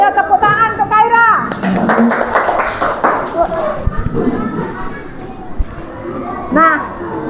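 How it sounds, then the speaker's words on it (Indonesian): Third-grade schoolchildren clap their hands in a classroom, rhythmic bursts of clapping mixed with children's voices and a teacher speaking, fairly loud and close, with chatter continuing between the claps. "Ayo tepuk tangan untuk Kaira."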